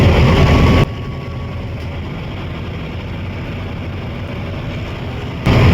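Low, steady rumble of a boat engine as the boat approaches a jetty at Gorai, Borivali, with louder, rougher bursts at the start and end; no one speaks.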